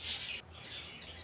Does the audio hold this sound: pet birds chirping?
yes